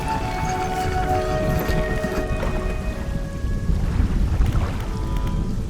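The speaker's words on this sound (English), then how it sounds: "the thundering is like vibrating my head" Rainstorm with thunder in the fishing video game DREDGE: dense, steady rain noise with deep rumbling underneath and faint tonal music lines, continuous throughout.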